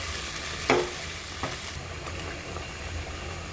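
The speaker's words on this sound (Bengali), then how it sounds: "এই যে আজকে আমি মটর কাতলা রান্না করব।" Katla fish with peas frying in oil, a soft steady sizzle broken by a sharp clatter and a lighter knock of stirring, close up and without speech.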